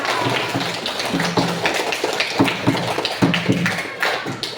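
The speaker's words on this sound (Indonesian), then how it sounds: "Ayo aplaus untuk kelompok 3." A classroom group applauds the winning team at a learning-practice session, with dense, steady clapping from many hands that runs loud and unbroken throughout.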